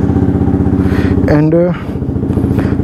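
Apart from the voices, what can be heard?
Yamaha R1M motorcycle with loud Akrapovic exhaust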